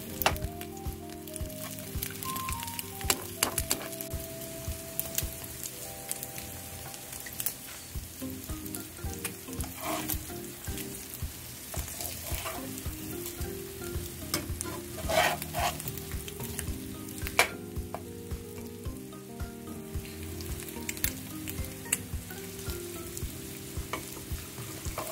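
Eggs and dried fish (bulad) sizzle and spit steadily in a hot frying pan, a close, continuous crackle with faint scraping and stirring, while a low melodic background tone plays underneath.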